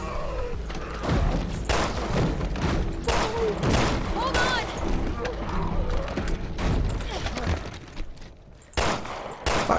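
Repeated gunshots in the survival horror game Resident Evil Revelations 2, sharp loud bursts fired in irregular clusters over rumbling game noise and mechanical clatter, with a voice talking between shots.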